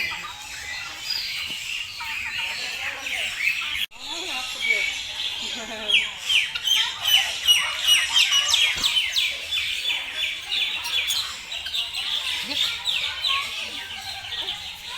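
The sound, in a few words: birds squawking and calling at Palembang bird park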